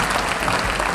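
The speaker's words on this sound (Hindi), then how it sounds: "आप जरा उत्साह भरी तालियां बजा दीजिएगा।" Audience at a Hindi humorous poetry event claps enthusiastically, a dense, steady burst of applause filling the whole moment with no voices.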